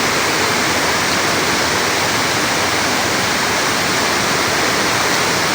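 Powerful waterfall at a resort roaring in a dense, unbroken wash of rushing water, loud and close with no voices.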